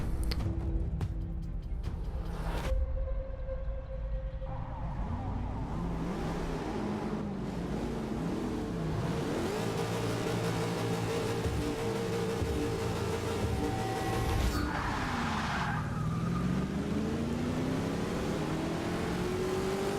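Ford Boss 302 race car in the Forza Motorsport 6 video game, its engine revving up and down through gear changes, with tire squeal and a steady roar that lasts throughout and no talking.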